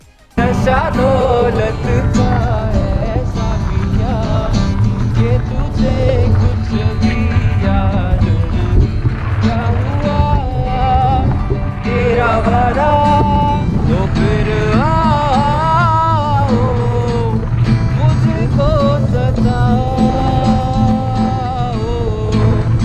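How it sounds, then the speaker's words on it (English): A guitar strummed in flight aboard a tandem paraglider in India, its steady chords and ringing notes carrying on loudly and continuously for over twenty seconds, with rushing wind noise mixed underneath. "Now we have a guy from India who takes a guitar on board his tandem paraglider."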